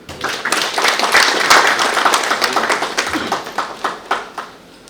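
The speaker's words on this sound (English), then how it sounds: "I saw an applause coming in." Audience applause at the Nashik Leadership Awards 2023 following a played video: a fairly loud wash of clapping that swells early, holds steady, then thins into scattered claps near the end.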